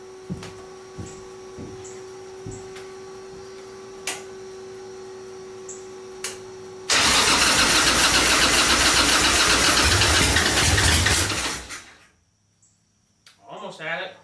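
A 1985 Harley-Davidson Ironhead Sportster cranking over, with a rhythmic starter motor chugging for several seconds before a loud, rough engine burst that runs briefly and dies, followed by a faint voice.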